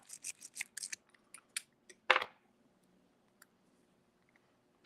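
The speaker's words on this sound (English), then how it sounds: "you simply go in here with this type of pick" Metal lock pick working inside a lock: a run of small sharp clicks and scrapes in the first two seconds, one louder metallic rasp, then near silence broken by a few faint ticks, close and quiet with no talk.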